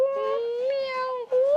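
A voice imitates a cat's meow, drawn out and tonal with a brief dip near the end, loud and close.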